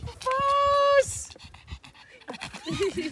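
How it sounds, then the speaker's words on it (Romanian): A dog pants in quick, breathy bursts close by, with a short whimper; people's voices chatter around it on a rural ride near Saint-Yan, France. "Uite ce cățel pupos!"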